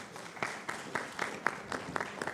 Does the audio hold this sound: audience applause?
yes